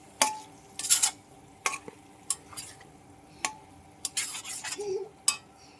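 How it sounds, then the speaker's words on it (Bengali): Chicken being stir-fried in a pan with fried papaya and potato, heard as a string of sharp, close spatula scrapes and clinks in irregular bursts, with faint sizzling between them and no talking. "তো এই যে চিকেনটা দিয়ে দিলাম, এর মধ্যে পেঁপে আলু ভাজাটাও দিয়ে দেবো, দিয়ে একসাথে কষাবো"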